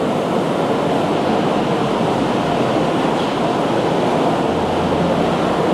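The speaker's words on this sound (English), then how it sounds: "this is the stainless grater. It grinds the cassava tuber into slurry form" Stainless grater in a cassava starch factory grinding cassava tubers into slurry, a loud, continuous, even grinding roar with no breaks and no speech.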